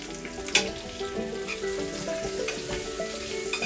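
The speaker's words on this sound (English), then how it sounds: "Baste the butter over the corn and cob and then into the oven." Corn on the cob sizzles in butter in a heat-proof pan, a steady close frying hiss with a few brief clinks of a basting spoon and no talk.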